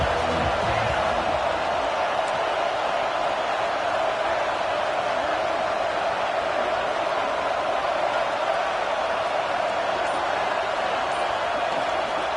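Stadium crowd at a football game, a dense continuous roar of cheering and noise that fills the space evenly for the whole stretch, loud and distant-sounding with no single voice standing out.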